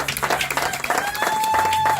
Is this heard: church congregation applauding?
yes